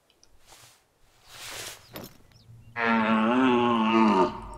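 A red deer stag in theHunter: Call of the Wild gives a loud, drawn-out roaring call lasting over a second, preceded by soft rustling and brief breathy noises.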